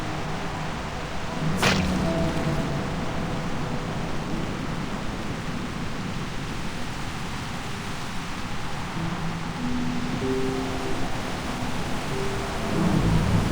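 A thunderstorm in the video game Reverse: 1999 brings steady, hissing rainfall throughout, with a sharp crack of thunder early on and low rumbling beneath the rain.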